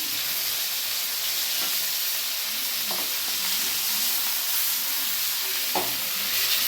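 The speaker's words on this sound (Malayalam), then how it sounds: "തിരിച്ചും മറിച്ചും ഇട്ട് നമുക്കിത് ഫ്രൈ ചെയ്തെടുക്കാം." Pieces of duck fry in a pan with a continuous bright sizzle and hiss, broken by a few soft scraping stirs and spatters, close up and without speech.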